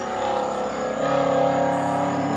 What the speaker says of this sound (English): I think that was a Mustang.